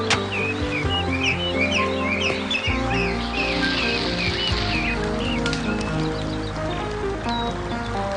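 Birds chirp and trill in a forest with many quick overlapping calls, set against a busy low bed of background sound and music, fairly close and steady throughout.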